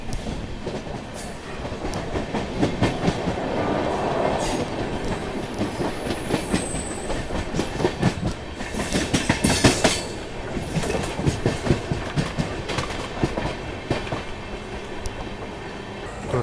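Amrit Bharat Express on the Banaras–Sealdah route rolling toward Patna Junction at night, a loud continuous rumble of wheels on rail with rhythmic clickety-clack over joints and brief high squeals, no voices.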